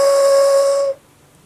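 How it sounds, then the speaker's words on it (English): A small plastic train-engine piece from a Disney popcorn bucket is blown as a whistle, giving one loud, steady, shrill tone that holds for just under a second and then stops abruptly. "take off this little engine piece because it's a train whistle"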